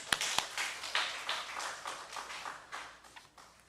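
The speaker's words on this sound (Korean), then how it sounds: "하나님께 영광의 박수 드리겠습니다." A church congregation at a Wednesday revival service claps in praise, starting with a few sharp individual claps and then settling into a softer, uneven patter that fades gradually over several seconds.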